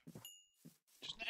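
Sheep in a survival video game give a few short, faint bleats, spaced apart with quiet gaps between them.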